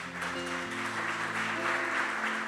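Congregation applauding during a church sermon, a dense, steady wash of clapping over sustained instrumental music tones throughout.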